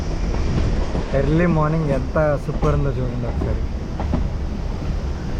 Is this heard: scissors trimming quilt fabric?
no